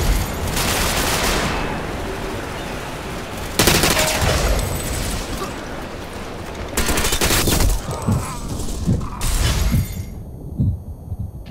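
Loud sniper rifle shots in the video game Ghost Recon, several heavy booming reports spaced a few seconds apart over constant dense battlefield noise, ending in a quieter tail.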